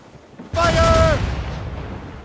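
Ship cannons firing during a naval battle in the video game Assassin's Creed Rogue: one sudden loud booming blast with a rumbling tail that fades over about two seconds, with a shouted voice over the top.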